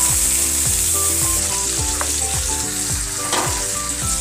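Hilsa fish frying in hot oil, giving a steady dense sizzle with crackling spatter throughout, loud and close, while a faint rhythmic thumping runs underneath.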